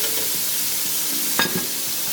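Onions hitting hot oil in a pan, a steady close sizzle with a brief stirring clatter in the middle, no talking.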